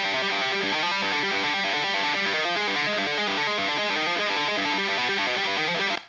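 An original guitar riff recorded for a song intro, a steady busy pattern of repeating notes, loud and dense throughout with no voices, cutting off at the end.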